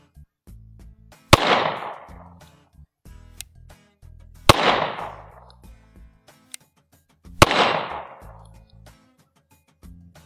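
Three sharp, loud shots from a Glock 43 9mm pistol fired one-handed, spaced about three seconds apart, each crack followed by a brief ringing echo that fades before the next, with faint handling clicks between.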